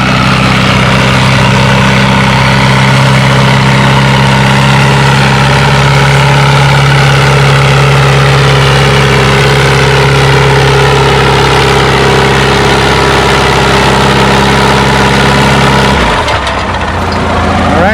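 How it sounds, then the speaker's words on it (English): Massey Harris 444 tractor pulling at a spring tractor pull event, its engine roaring loud and steady as the pitch slowly climbs, then dropping off sharply near the end. "He's on Dean Gerke's 444 Massey Harris, known as Bocephus."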